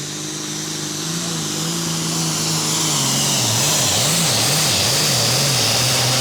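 A John Deere pulling tractor roars through a pass at a tractor pull, its loud engine droning and wavering in pitch as it labours, close and continuous with no talk over it.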